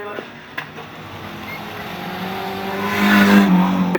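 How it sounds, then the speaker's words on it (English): Race car from a heavy crash event, entry number 158, moving toward the racing line, a steady engine drone that builds louder toward the end, with a couple of brief knocks and commentary-style talk over it. "158 Shane Davis looks very powerful as it makes its way to the racing line."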